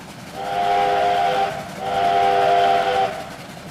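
A G5 4-6-2 steam locomotive in the Trainz simulator blows two long, loud steam whistle blasts with a short gap between them, over a low rumbling background.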